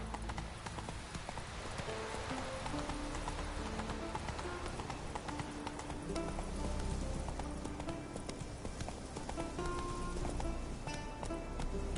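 Horse hooves gallop in The Witcher 3 as Roach runs, a steady rapid clip-clop rhythm that stays close and loud throughout, with faint scattered background noise.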